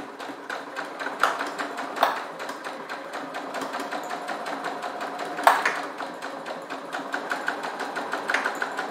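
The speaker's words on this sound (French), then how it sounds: "Et je vais faire une couture au point droit à 1 cm du bord." Sewing machine running a straight stitch on fabric: fast, even mechanical ticking at a steady rhythm, close and moderately loud, with a few brief louder clicks along the way.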